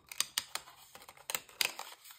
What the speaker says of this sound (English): this clicker piece is far enough into the groove of the saw blades so we get some clicking going on there